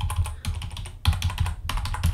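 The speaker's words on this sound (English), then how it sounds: "and then we can use the arrow keys" Arrow keys on a computer keyboard pressed repeatedly while nudging a race car sprite in Scratch, giving a steady run of close, crisp key clicks in irregular bursts, with no talking.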